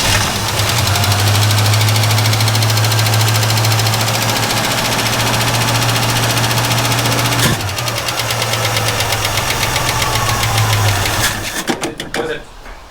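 A 1967 Ford Mustang's starter cranks the engine with a steady, loud, even churning that runs for several seconds, pauses, then resumes before sputtering to a stop. Voices are heard faintly in the background.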